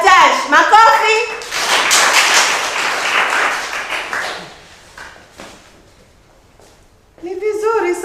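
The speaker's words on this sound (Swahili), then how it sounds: "Makofi." A classroom of pupils breaks into a burst of loud, dense clapping that lasts a few seconds, then fades, with voices speaking before and after.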